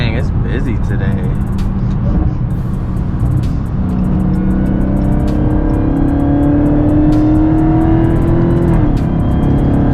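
A 2020 Dodge Charger Hellcat Widebody roars under full throttle in daytime traffic, a loud, sustained engine note climbing in pitch as it pulls past other vehicles, with wind and road noise throughout.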